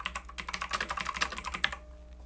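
Keys clatter on a MacBook keyboard as a title is typed into a PowerPoint slide, a quick, close burst of keystrokes that stops abruptly near the end.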